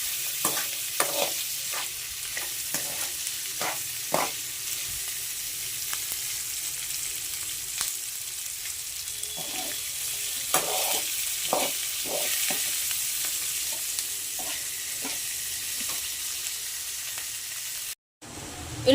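Green chillies fry in hot oil for upma, giving a steady close sizzle broken by frequent clicks and scrapes of a stirring spoon, with no talk and a brief drop near the end.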